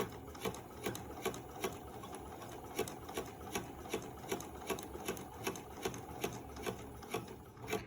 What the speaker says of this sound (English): we just sew forward down the fabric